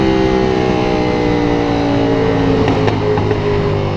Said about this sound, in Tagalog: Super crispy ng backfire.